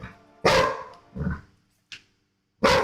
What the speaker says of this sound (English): Hey, you already borked at us, and you've had multiple treats.